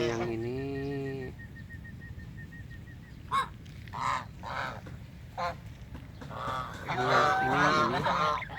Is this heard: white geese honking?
yes